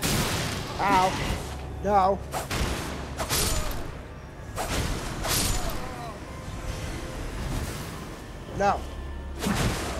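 Glintblade Barrage sorcery in the game Elden Ring fires repeated bursts with whooshing booms amid combat noise, loud and close, while a player mutters short exclamations over it.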